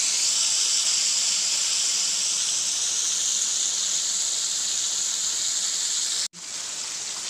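Chicken frying in oil gives a constant loud sizzling hiss that holds steady throughout, broken only by one brief dropout near the end.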